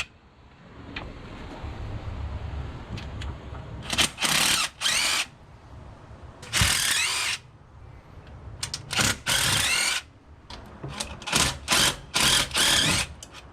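Power tool spinning out intake manifold bolts on a Ford 351W engine during head gasket work, a series of loud high-pitched whirring bursts of a second or so each, separated by pauses and faint clatter.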